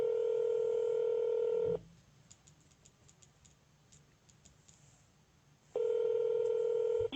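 Telephone call with a steady ringback tone, then a pause holding short faint dialing ticks, then the ringing tone returns.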